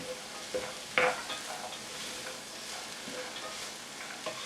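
Vegetables sizzle steadily in preheated oil in a pan for chicken soup, with a few scraping stirs breaking through the constant close frying hiss.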